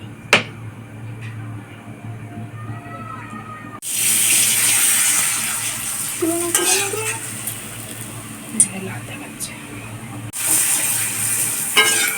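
Papad frying in hot white oil in a wok, puffing and reddening: a steady, loud, close hissing sizzle that starts abruptly and runs for several seconds, with occasional clicks and quieter stretches before and after.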